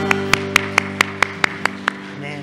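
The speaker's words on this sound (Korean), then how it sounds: "우리 주님께 감사와 영광의 박수 올려드리겠습니다" A church congregation claps in praise during Sunday worship, nine evenly spaced sharp claps in a steady rhythm over a sustained organ-like chord that fades as the clapping stops.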